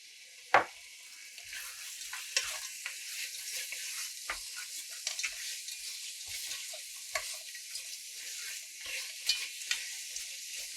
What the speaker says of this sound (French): Donc là, on va faire colorer le porc.